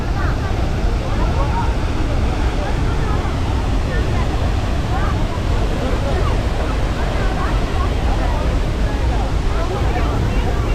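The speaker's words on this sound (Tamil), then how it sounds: "எத்தனை வாட்டி காட்டினாலும் பார்த்துக்கிட்டே இருக்கலாம் இந்த அதிரம்பள்ளி வாட்டர் ஃபால்ஸை" Athirappilly waterfall roars as a loud, steady wash of broadband water noise with spray drifting, continuous and close throughout, with faint crowd chatter mixed beneath.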